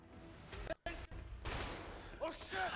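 Gunfire rattles in A Way Out in short, faint bursts with brief gaps, mixed with a faint voice.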